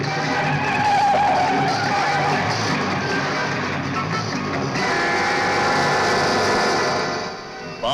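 Taxi tires screech loudly in a long, sustained skid as the car swerves through a turn, with engine noise underneath.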